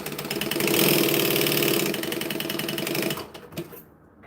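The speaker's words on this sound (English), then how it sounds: "I'm gonna just sew these together" A sewing machine stitches together pieces of a goblin-themed wallet, running in a steady fast mechanical whir for about three seconds before stopping, with a few small clicks afterward.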